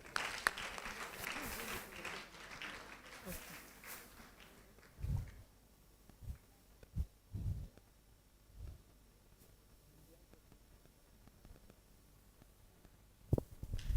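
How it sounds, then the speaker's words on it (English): An audience claps after a presentation at an award event, an initial burst of applause that fades to scattered claps and a few isolated loud claps, fairly distant in a hall. "Let's keep clapping."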